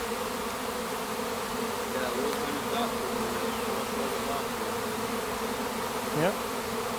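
A swarm of honeybees moves into a box hive outdoors, making a dense, continuous buzzing hum that stays steady throughout, with an individual bee passing close by near the end.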